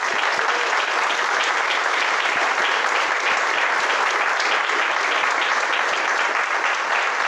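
A church congregation clapping in praise at a 50th anniversary service, dense sustained applause filling the room without a break, with no clear talk over it.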